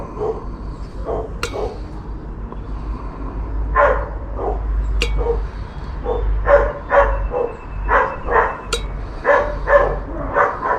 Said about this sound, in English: You hear those dogs bark, and they bark constantly, 24/7.